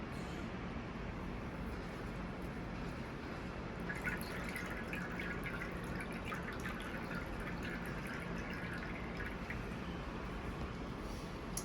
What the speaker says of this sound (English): let's start squeezing some liquid out